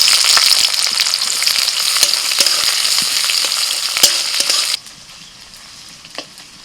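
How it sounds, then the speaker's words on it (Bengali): Chopped onion hits hot oil in a kadai already tempered with bay leaf and five-spice, giving a loud, dense, steady sizzle for several seconds that abruptly drops to a faint crackle near the end, with no talking. "ফোড়ন হয়ে গেছে, দিয়ে দিচ্ছি পেঁয়াজ কুচি"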